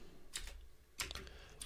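Someone types Java code on a computer keyboard, giving a few quick clusters of soft key clicks over a steady low room hum.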